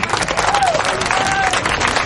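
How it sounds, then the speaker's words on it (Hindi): Audience at a show featuring performers with disabilities from Trinayani claps loudly and continuously, a dense crowd applause with faint voices and a whistle-like tone mixed in. "तालियां कहाँ हैं?"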